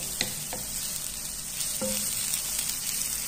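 Onion and garlic frying in a thin layer of oil for a sauce in a salted-fish and vegetable dish, a steady close sizzle with a few soft clicks and stirring knocks, no talk.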